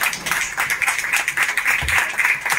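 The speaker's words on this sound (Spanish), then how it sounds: "Un aplauso para ellos." Audience applause for two musicians at a restaurant food event during a fantasy film week, a steady dense patter of clapping that fills the whole moment at moderate loudness.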